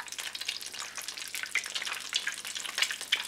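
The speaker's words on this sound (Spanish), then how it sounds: "Cuando el aceite esté bien caliente, freímos las croquetas" Chicken and ham croquettes bubble and sizzle in hot oil, a steady crackling fry with small pops, close and clear with no voices.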